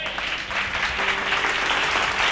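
A congregation at a late-night Bible study breaks into brief, dense clapping, a close burst of many hands applauding together.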